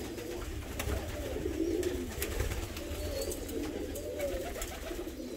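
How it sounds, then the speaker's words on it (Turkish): Fancy pigeon chicks call in a crowded loft, with soft repeated cooing and begging calls over a dense murmur of many birds nearby. "Baksana yavru sesleri gelmeye başladı."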